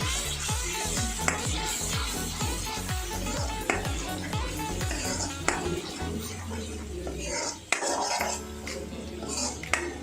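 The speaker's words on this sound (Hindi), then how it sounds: "इसको अच्छी तरह से अभी भूनना है।" Fish frying in a pan while being stirred, with a steady sizzle under rhythmic scraping and clinking of a utensil against the pan and an occasional soft voice.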